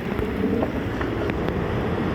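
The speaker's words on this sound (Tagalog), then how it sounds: "talagang grabing hampas ng alon dito" Ocean waves pound and slosh against a wrecked beach house in Albay, Bicol, whose walls the sea has broken, a dense, roaring wash of water with wind buffeting the microphone throughout.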